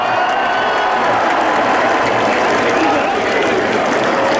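A large crowd applauds steadily at the opening ceremony of the Fêtes de Bayonne, dense continuous clapping filling the space at high volume throughout.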